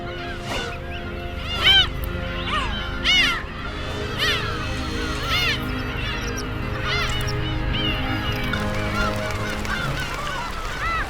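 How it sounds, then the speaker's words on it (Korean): A breeding colony of black-tailed gulls on a rugged island calls over and over, with many overlapping cries near and far and a few louder calls standing out above the steady din. "새끼를 먹이기 위해 먹이 사냥에 나선 괭이갈매기"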